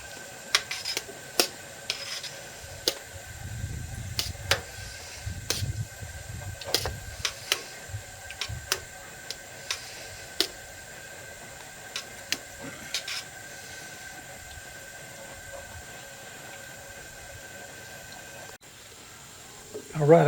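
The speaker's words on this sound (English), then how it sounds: "our pot's just starting to boil" A brewing pot of beer wort for a helles-style craft batch coming up to a boil, with a faint steady bubbling hiss punctuated by sharp clicks and knocks of a spoon against the pot, fairly quiet throughout.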